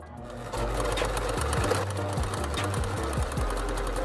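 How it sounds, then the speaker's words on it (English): Sewing machine stitching long seams on leopard print stretch pants, a close, loud, rapid mechanical whirring hum running continuously with brief pauses and restarts in speed. "Since I'm already here on my machine sewing long seams, I'm gonna go ahead and sew up the inseam"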